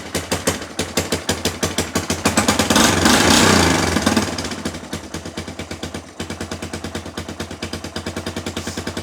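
An old Yamaha Wolverine ATV engine runs just after starting, a loud, close, rapid popping putter that swells briefly as it revs, then settles back into a steady, choppy idle.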